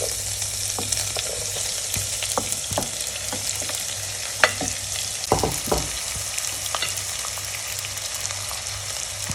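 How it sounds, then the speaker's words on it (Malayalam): Sliced onion frying in a spice masala for a Kerala-style mutton stew, a constant hiss of hot oil broken by sharp clicks and scrapes of stirring, with no voices. "മസാല മൂത്ത് കഴിയുമ്പോൾ അരിഞ്ഞു വച്ചിരിക്കുന്ന സവാള അതിലേക്ക് ഇട്ട് കൊടുക്കാം."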